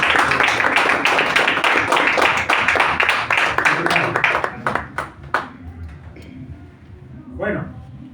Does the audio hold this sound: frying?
no